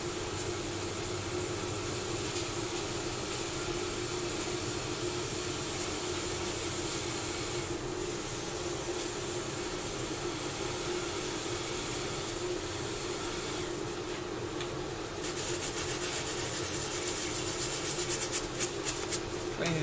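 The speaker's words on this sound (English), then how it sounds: "now we sand the colour off" Sandpaper of 320 grit rubs steadily over a turned and coloured wooden vase to remove the colour, a continuous close scratchy hiss running without pause and brightening slightly near the end.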